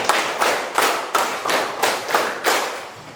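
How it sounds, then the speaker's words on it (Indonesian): A class claps a rhythmic pattern in unison: seven sharp, evenly spaced group claps in quick succession, close and loud, with no talking over them. "2 kali tepuk 5"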